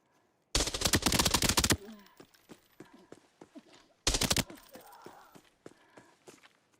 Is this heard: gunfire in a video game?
yes